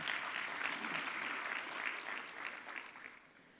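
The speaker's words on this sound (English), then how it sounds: "Please, a good round of applause for Black Enterprise." An audience applauds steadily and fairly loudly for Black Enterprise at a business fireside chat, a dense wash of clapping that tapers slightly toward the end.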